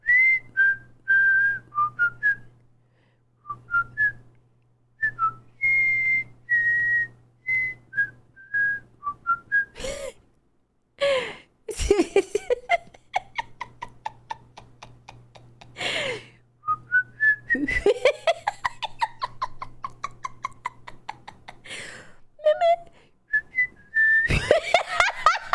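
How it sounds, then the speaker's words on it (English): Whistled theme from the video game Deadly Premonition, a jaunty melody of short and held notes repeated in phrases, close and prominent, interrupted by bursts of laughter and noisy breaths. "I need to hear the Deadly Premonition whistle."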